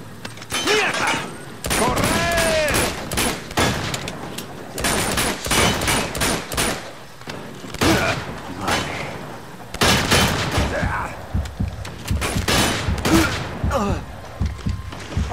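Rapid bursts of video game gunfire from Uncharted 2, during an excavation level, crackle nearly nonstop in loud volleys with short gaps and occasional booms and thuds, with excited voices talking over parts of it.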